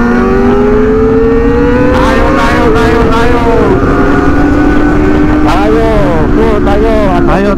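Kawasaki ZX25R motorcycles on a group touring ride through Central Java rise in pitch as they accelerate, loud and close, their engine whines climbing and dipping over a constant rush of wind.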